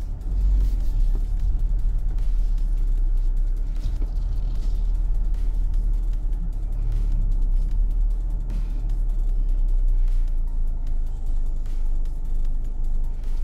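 Jaecoo 7 SUV descending a steep slope on an off-road test track, giving a steady low engine and tyre rumble throughout, with faint hints of voices in the background.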